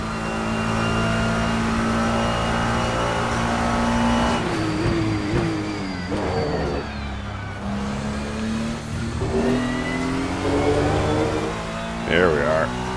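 Ferrari GT3 race car, the RSS Furiano mod in the Assetto Corsa racing game, with its engine droning loud and steady throughout, rising and falling as it shifts and brakes into corners, while someone talks over it.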